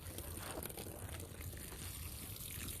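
Water splashes and trickles softly onto potted plant soil, a quiet, continuous pouring with faint gurgles close by.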